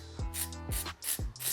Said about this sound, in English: So I'm just spraying this.